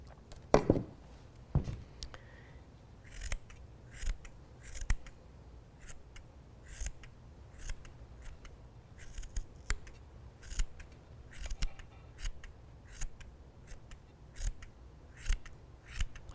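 Scissors snip around a yarn pom-pom to trim it, giving crisp close cuts in quick clusters, with a few louder handling knocks at the start and steady snipping after.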